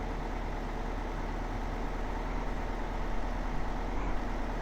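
A tractor engine drones steadily while driving along roads in the video game Farming Simulator 19, a loud, continuous low rumble with no pauses.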